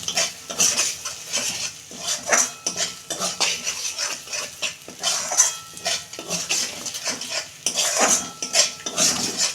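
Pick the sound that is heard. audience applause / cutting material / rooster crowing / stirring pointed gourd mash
stirring pointed gourd mash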